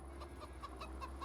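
Chickens in the Farming Simulator 25 video game cluck softly in a few quick, quiet bursts over a steady low background hum.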